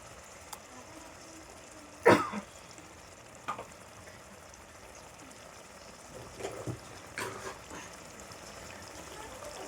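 Masala and green chilli paste frying in oil for a chicken dish, a low steady sizzle with a few sharp stirring clatters and spatters, close and fairly quiet, with no talking.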